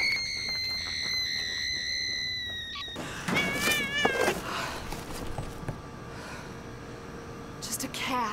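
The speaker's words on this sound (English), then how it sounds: "Just a cat." A cat in a vampire action-horror movie lets out drawn-out, wavering meows and caterwauls, loud and near, with a shrill tone at the start and voices speaking around it.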